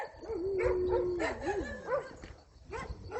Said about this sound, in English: These ones are just barking.